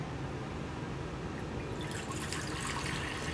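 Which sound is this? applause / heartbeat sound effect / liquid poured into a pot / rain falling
liquid poured into a pot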